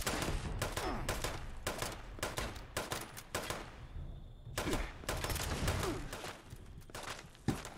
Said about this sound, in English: He's shooting me with a railgun?